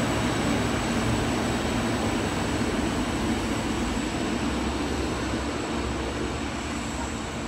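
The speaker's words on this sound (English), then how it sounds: "We have a heritage train passing." Heritage train passing a station at Picton, a steady loud rumbling roar with a constant high tone above it, sustained at close range for the whole stretch.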